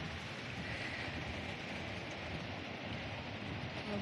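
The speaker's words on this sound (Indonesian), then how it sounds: "Hari ini saya di Jakarta dan hujan, teman-teman lihat." Continuous rain pours down in Jakarta, a uniform broadband hiss at moderate level with no pauses and no talk over it.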